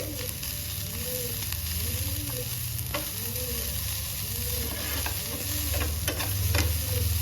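Mixed vegetables stir-frying for masala bread upma: a steady sizzle with rhythmic scraping strokes of a spatula across the pan, close and continuous throughout.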